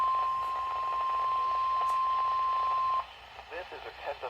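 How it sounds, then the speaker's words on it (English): A NOAA weather radio warning alarm tone, the steady test tone of the Weather Service for northwest Ohio, holds loud and continuous for about three seconds, then cuts off as faint broadcast talk follows. "This is a test of the Weather Service weather radio warning alarm"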